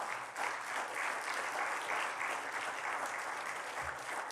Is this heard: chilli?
no